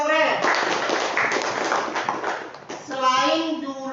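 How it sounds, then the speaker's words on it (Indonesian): Classmates clap for a student in a school classroom during a geometry lesson, a burst of hand claps lasting a few seconds with children's voices and a teacher talking over it. "Iya, tepuk tangan untuk Aurel"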